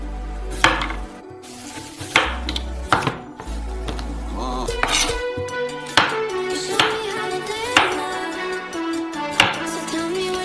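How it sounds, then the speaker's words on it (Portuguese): A knife chops through a halved carrot on a cutting board, cutting it into slices for lasagne vegetables; sharp, evenly spaced thuds ring out at close range, with music playing underneath. "Cortamos uma cenoura ao meio e as fatiamos."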